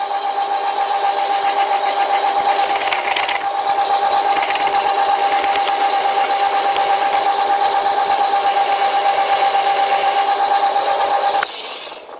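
An old WW2-era Fischer lathe cuts metal while fed by the carriage with a faulty cross slide, a loud steady motor drone with a sustained tonal whine and scraping cutting noise running continuously before stopping abruptly near the end.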